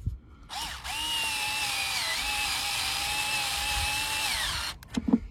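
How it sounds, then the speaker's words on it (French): A power drill bores holes to fit a Maxton Design body kit onto a Tesla Model 3, one steady whining run of about four seconds with a slight pitch dip midway, close and loud, then stopping. "Je perce."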